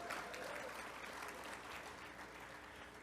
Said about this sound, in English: come on and clap ahead of time.